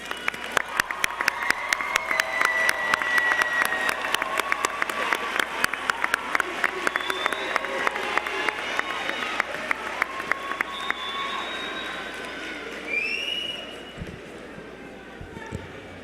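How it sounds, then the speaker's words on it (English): Graduation audience at a high school ceremony applauding school staff, a long steady wash of clapping from a large crowd in a big hall, fading toward the end with a few scattered claps. "students take their time to applaud and thank them for everything they have done for us"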